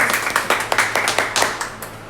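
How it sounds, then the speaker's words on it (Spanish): A congregation claps during a Spanish-language Bible study on Revelation, a loose series of sharp individual hand claps in an irregular rhythm, fairly close and distinct, with no voices over them. "Aplauda a Dios."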